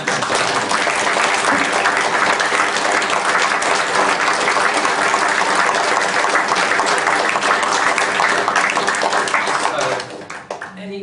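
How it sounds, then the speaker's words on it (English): Loud, dense applause from a gallery audience after an art talk with Jeremy Deller, sustained crowd clapping that fills the room for around ten seconds before tapering off at the end. "Can we all applaud Jeremy?"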